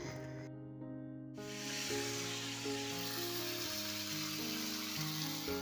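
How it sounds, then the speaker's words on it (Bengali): Okra fries in a pan with a steady, broad sizzling hiss that rises and stays constant, layered under soft background music. "ঢ্যাঁড়স ভাজতে বসে পড়েছি আমি।"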